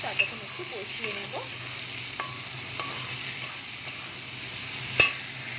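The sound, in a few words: ginger garlic paste and ground spices frying, stirred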